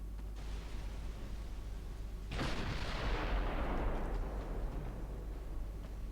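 Battleship secondary guns fire in a naval battle in Ultimate Admiral Dreadnoughts, with one loud boom near the middle that spreads into a long rolling blast over a steady low rumble.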